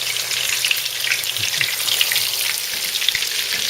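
Pupusas fry in a little oil in a pan on the stove, giving a close, steady crackling sizzle with no voices.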